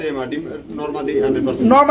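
Close, loud Danish pigeon coos roll out in a short burst, mixed with someone talking.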